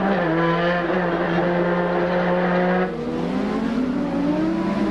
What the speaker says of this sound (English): Let's listen to this engine again.